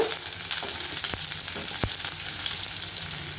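Finely chopped onion tipped into hot oil with cumin seeds crackles and sizzles steadily up close, with a few sharp pops and a faint stir, no voices.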